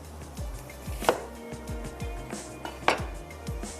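A knife slices onion on a cutting board while Kolhapuri egg gravy is being prepared. Rhythmic knocks of the blade against the board repeat at a steady pace, with two sharper clacks standing out, close and moderately quiet.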